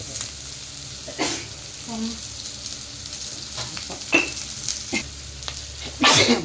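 Radish being stir-fried with rock salt in a hot pan for chutney, a steady close sizzle with several sharp scraping stirs and clinks of a utensil against the pan.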